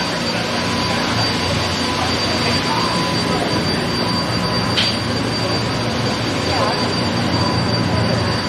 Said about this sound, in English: Those engines are so loud.